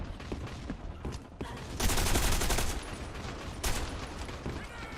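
Rapid gunfire from a weapon in the free online shooter Black Squad, bursts of sharp reports with a louder sustained volley mid-way and another short burst near the end, mixed with game sounds.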